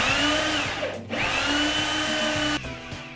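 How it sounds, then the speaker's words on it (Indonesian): A power drill fitted with a 32 mm hole saw bores into a door, a loud steady whine that briefly dips and restarts, then shifts pitch as the cutter bites through. "Di sini saya akan melubangi pintu menggunakan hole saw drill dengan diameter 32 mm."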